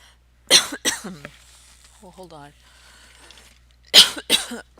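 Someone with allergies coughs in two sharp bursts near the start and two more near the end, close and fairly loud, with a short stretch of talk between them.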